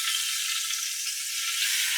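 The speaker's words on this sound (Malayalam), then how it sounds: "തിളച്ച നെയ്യാണ്." Boiling ghee sizzles in a steady, hissing crackle, an even bright fizz holding at a constant level for the whole moment with no voices over it.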